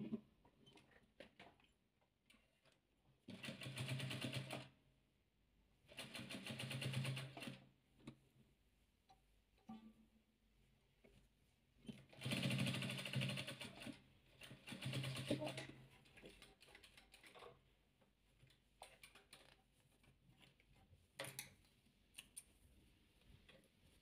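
A sewing machine stitching a hexagonal seam on a soft 3D fabric ball for children, running in four bursts of rapid close ticking, separated by quieter pauses with faint handling sounds.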